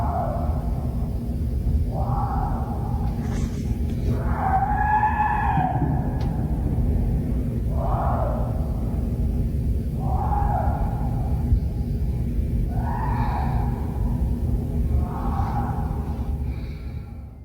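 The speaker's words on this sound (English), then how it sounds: "Sasquatch screaming around by the houses late last night" Alleged Sasquatch screams ring out late at night near houses in Newtown, Masset, BC: a series of long, wavering, howl-like cries, some rising in pitch, repeating every second or two over a constant low rumble of background noise.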